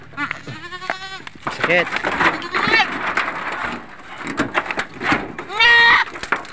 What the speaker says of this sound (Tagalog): Kala ko binubuli ng apat na kambing, tinutulungan pala siya.